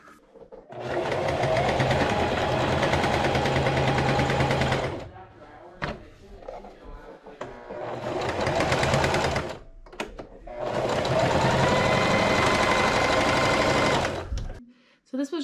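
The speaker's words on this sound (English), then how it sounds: "Now I just have to remember how to use my sewing machine" A home sewing machine runs in three sustained bursts as it stitches around a small hole, its loud whirring motor stopping and restarting between runs.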